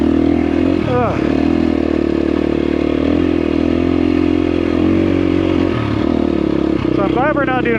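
A trail motorcycle rides through the Idaho high country, its engine droning steadily and loud throughout with brief revving swells near the start and end, close to the listener.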